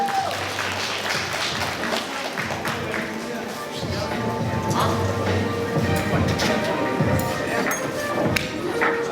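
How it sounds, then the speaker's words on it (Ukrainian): An outdoor audience applauding at a health-awareness event with a rescue demonstration, a sustained patter of clapping mixed with thumps, crowd noise and someone talking over it. "аплодисменти"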